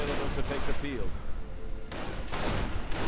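A muffled blast erupts amid game battle noise, followed by rumbling crashes and further booms, with a voice talking over it.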